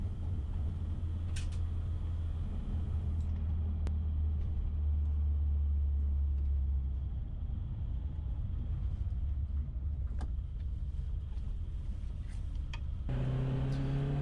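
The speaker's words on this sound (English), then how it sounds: "So driving it on the highway is actually not too bad." A Suzuki Samurai cruises on the highway, its engine and road noise forming a steady, loud interior rumble throughout with no talk.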